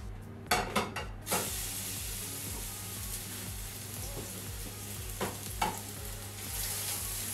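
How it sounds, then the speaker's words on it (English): Beef burgers pressed into a hot, oiled non-stick pan, a loud steady sizzle and fry throughout, opened by a few clanks and scrapes of cookware near the start and another pair of knocks later on. "Press your burgers in."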